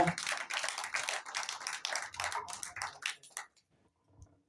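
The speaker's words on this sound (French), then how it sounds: "Let us clap our hands." A church congregation claps hands during a bilingual service. The claps are quick and fairly close, then stop abruptly, leaving near silence with a few faint sounds.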